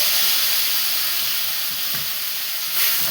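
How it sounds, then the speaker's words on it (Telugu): Tomatoes dropped into hot oil in a pan for a pachadi (chutney) give a steady, close sizzling hiss that runs evenly throughout with no talking. "ఇగో టమాటా వేసేస్తున్నాను."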